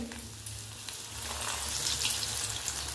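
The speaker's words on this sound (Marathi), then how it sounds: "तर चला सगळे कोफ्ते असेच करून तळून घेऊया" Malai kofta balls sizzling in hot oil in a home kitchen, a steady frying crackle and hiss that swells as more balls drop in, close and continuous with no talking.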